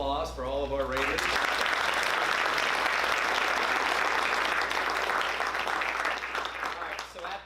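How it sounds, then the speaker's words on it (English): A board meeting audience breaks into applause for students, starting just after a short spoken line and holding as a full, continuous roar of clapping for roughly six seconds before easing off. "One more round of applause for all of our Raiders."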